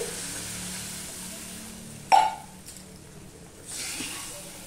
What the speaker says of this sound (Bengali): এবার আমি পরিমাণ মতন জল দিয়ে দিচ্ছি